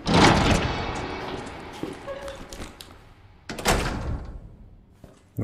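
A heavy door in Resident Evil 2 creaks and thuds open loudly, then a second loud door thump follows a few seconds later, and a brief knock comes at the end against a dim in-game background.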